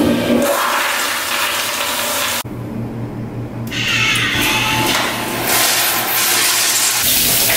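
A toilet in a restroom with an automatic sensor flush gives a loud, close rushing flush. The water roar briefly cuts out partway through, then returns and keeps running steadily to the end.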